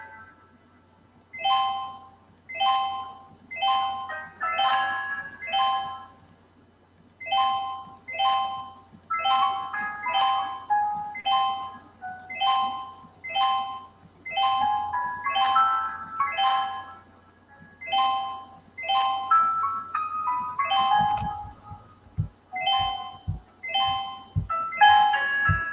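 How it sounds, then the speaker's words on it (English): Soft instrumental music with repeating bell-like chime phrases plays steadily throughout an online multiple-choice test, each short tinkling figure recurring in an even rhythm, with a few low thumps near the end. "you can hear soft instrumental music throughout the test."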